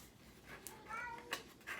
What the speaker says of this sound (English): Oh my God, the cats are going wild.